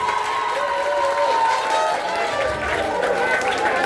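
A school celebration crowd applauds and cheers for the primary section, a dense, loud wash of clapping and crowd noise with voices mixed in throughout.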